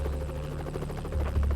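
A rescue helicopter hovers nearby over desert terrain, a loud steady rotor thump with a low droning engine hum that swells slightly toward the end.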